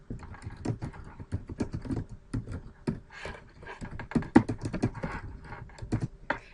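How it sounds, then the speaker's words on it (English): Close, fast typing on a computer keyboard, a steady patter of crisp individual key clicks with short pauses, heard alone without talk. "you open up Word, whichever version you're using, and then you type with real English"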